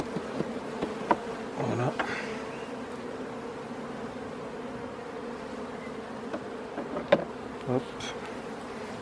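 Honeybees hum in a continuous, close buzz around an opened beehive in hot weather as a beekeeper brushes the last bees off fragile wax frames, with occasional handling knocks and a couple of brief spoken words.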